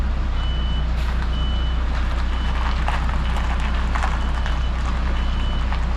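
Reversing beeps from a delivery truck backing into a tight yard, a steady repeating electronic tone at a regular rhythm over loud low engine rumble and road noise.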